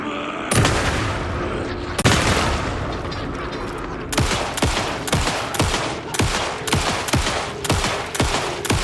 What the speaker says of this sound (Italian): Io vi sparo con tutto quello che ho, ovviamente.